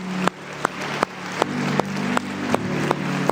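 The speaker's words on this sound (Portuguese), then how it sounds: "Dê uma salva de palmas a Jesus." Congregation applause at a Brazilian evangelical church service, a steady wash of many hands clapping with sharp periodic accents, sustained and fairly loud throughout.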